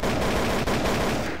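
Rapid gunfire from Trouble in Terrorist Town in Garry's Mod, a dense continuous burst of automatic shots lasting over a second, loud and close with no break.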